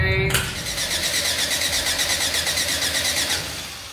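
A car engine cranking with gas poured straight down the throttle barrel, a rapid whirring churn under voices that runs steadily for a few seconds and then fades without clearly catching.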